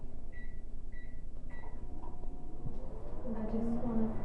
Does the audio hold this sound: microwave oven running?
yes